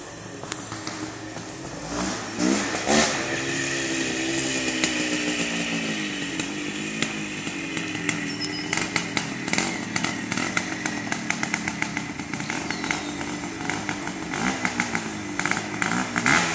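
A 41-year-old CZ 250 motorcycle engine runs loud and close after starting, with a raw, buzzy two-stroke idle that keeps blipping and revving unevenly throughout.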